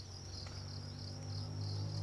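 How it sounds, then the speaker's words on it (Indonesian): Harvested crickets in a breeding setup chirp in a constant, high, close trill that holds steady throughout with no voices, over a low electrical hum. "Nah ini jangkrik yang sudah dipanen, ini untuk persiapan indukan ini kawan."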